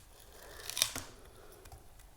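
A single close snip of scissors cutting through a craft tree, one soft crisp cut followed by a faint rustle, quiet and without speech.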